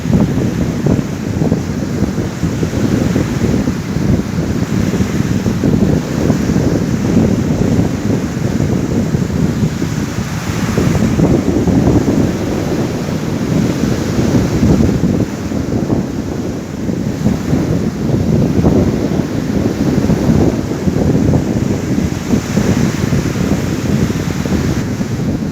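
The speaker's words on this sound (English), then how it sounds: "we can count how many waves break on the beach during a minute or 60 seconds" Ocean waves breaking on a beach, a steady loud wash of surf with recurring surges, heavily buffeted by wind noise on the microphone throughout, no voices.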